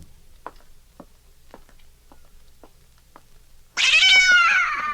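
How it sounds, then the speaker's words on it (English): A cat lets out a loud, drawn-out meow near the end of a radio drama scene, following a stretch of quiet, faint ticking. "You like that cat, Miss Diane."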